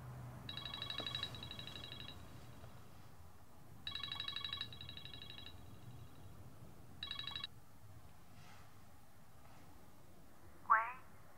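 A telephone ringing in three electronic trilling bursts with gaps between them, the last burst short, over a quiet room hum, followed by a faint clack.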